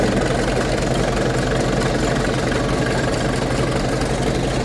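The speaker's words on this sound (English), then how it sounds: "These are some old tractors that are still in operation." An old tractor engine idles and chugs steadily in a show parade, a continuous low rumble that stays constant throughout with no voices over it.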